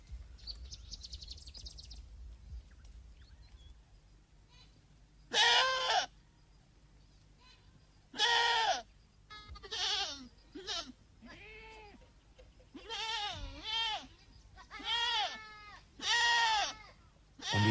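Goats from a Somali nomad herd bleat in a series of loud, wavering calls, several animals near and overlapping, with quiet gaps between bursts against a low background hum.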